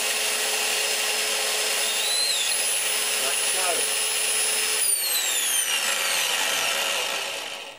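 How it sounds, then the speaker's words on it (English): A steady high-pitched electric drill whine as it spins a bolt into a cork, with a continuous buzzing hum and faint scraping, a brief word spoken near the start. "So I'll start the drill and just holding the cork very lightly,"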